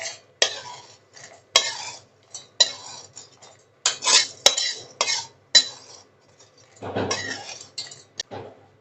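Fried tempering spooned from a pan into a mixer jar, with a series of sharp metallic clinks and scrapes in irregular bursts, close by.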